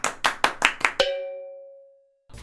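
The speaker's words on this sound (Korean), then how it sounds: "고생해주신 견자이님에게 박수를 한번 부탁드리도록 하죠" Five or six sharp hand claps in quick even succession, fairly close, followed by a ringing chime-like tone that fades out slowly, with no talking.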